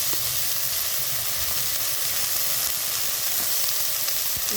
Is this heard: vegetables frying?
yes